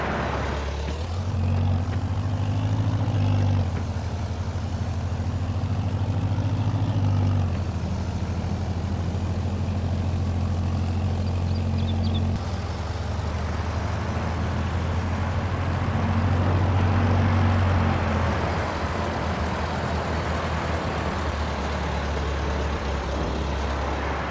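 Tractor engine in Farming Simulator 22, a steady low diesel drone with its pitch rising and falling as it revs and idles, loud and continuous with no talk.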